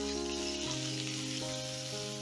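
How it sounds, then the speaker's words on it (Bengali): Pieces of pointed gourd (potol) fry in hot oil in a pan, giving a continuous, even sizzle with a steady hum underneath, close and moderately quiet, with no voices. "এবার পটলটাকে লাল লাল করে ভেজে নেব"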